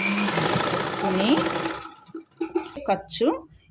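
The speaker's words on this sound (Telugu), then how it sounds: "చూడండి, నేను ఎలా స్టిచ్ చేస్తున్నానో అలా స్టిచ్ చేసుకోవాలి." A sewing machine stitches fabric pieces for a silk blouse, whirring steadily and fairly loud for nearly two seconds before stopping, followed by someone talking.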